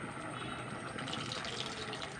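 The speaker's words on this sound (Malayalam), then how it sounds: "കുറച്ചും കൂടി വെള്ളം ഒഴിച്ച് കൊടുക്കട്ടെ" A steady, soft rush of water pours continuously into a pot with tamarind, fairly quiet and unbroken, with no voices.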